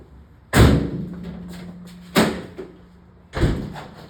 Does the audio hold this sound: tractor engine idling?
no